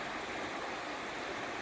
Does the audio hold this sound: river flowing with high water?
yes